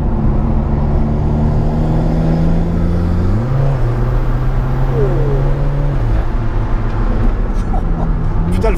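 An Alfa Romeo 4C sports car drives on an open road, its engine a loud steady drone with a gear change midway, heard from inside the cabin with road rumble throughout.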